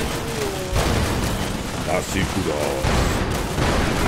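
Booming explosions and crackling blasts go off repeatedly in the video game Fallout 76, loud and dense, while someone speaks over the noise.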